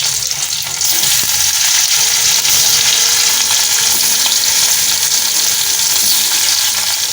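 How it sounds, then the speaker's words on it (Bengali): Potatoes fry in hot oil in a wok for an aloo dum, giving a loud, steady, dense sizzle that fills the whole clip with no talking. "এবার আলুগুলো ভাজবো লাল লাল করে একটু।"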